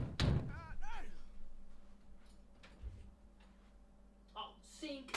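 Someone knocks on a door: a sharp loud rap at the start, then fainter thuds, while a person talks over it indoors.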